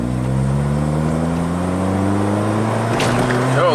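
A 2011 Kia Forte with a crankshaft position sensor fault revs hard under acceleration, engine pitch climbing steadily and loudly before easing off, with a brief clatter near the end.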